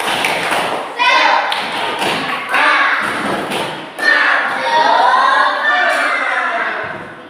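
Schoolchildren in a classroom do a rhythmic spirit clap, shouting a chant in unison over loud patterned claps and thuds that come in several energetic bursts.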